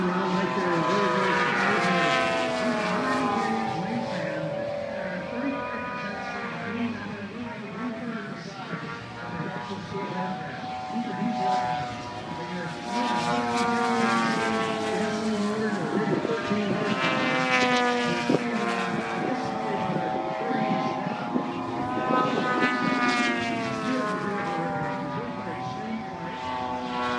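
Aerobatic propeller airplanes at an air show swoop overhead, their engine drone rising and falling in pitch as they pass and turn, loud and continuous, with a voice talking over the noise.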